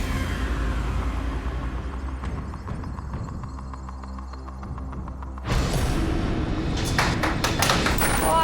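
Tipping Point game show machine pushing counters, a low rumbling, thumping mechanical drone that turns into a louder clatter of falling counters near the end.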